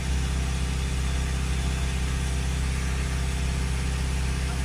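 A Citroen Relay 2.2 diesel engine idles steadily, a loud, even low rumble with constant vibration and no change in pace throughout.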